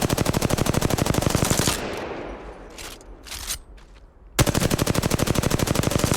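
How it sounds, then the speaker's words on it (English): Flatline assault rifle in Apex Legends firing long, rapid full-auto bursts, loud and close, with a short pause between sprays before the fire resumes. "See how the flatline of recoil is so hard to control?"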